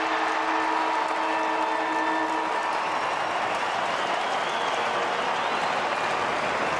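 A football stadium crowd at an Australian rules match, St Kilda versus North Melbourne in 2012, roars and applauds as the final seconds tick away. The sound is a broad, distant, steady wash of cheering.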